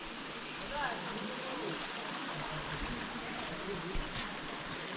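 Stream water flows steadily beneath a bridge in rural Meghalaya, a continuous broadband rush of moderate level with faint bird chirps over it.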